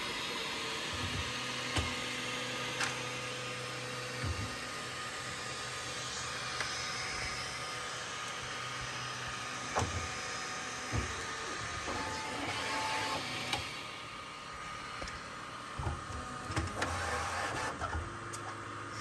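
A Bambu Lab P1P 3D printer unloading filament, a steady whirring mechanical drone with motor whines and scattered clicks and knocks throughout, close by and continuous.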